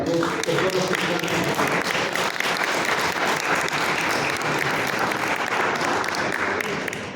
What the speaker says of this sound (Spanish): Yo quiero pedirles un fuerte aplauso para todos los que están.